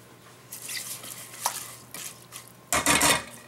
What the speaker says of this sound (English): Just give them a quick stir.